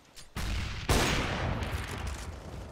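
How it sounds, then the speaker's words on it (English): A grenade goes off in the video game Counter-Strike: one sharp blast about a second in, followed by a broad, lingering rumble at moderate volume. "Grenade out."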